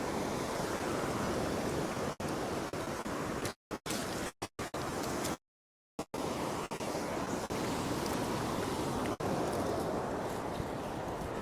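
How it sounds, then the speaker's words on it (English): Surf breaks steadily on an open North Sea beach at Upgang during a sea angling match, a continuous wash of waves with wind noise and brief dropouts in the sound. "water with waves breaking"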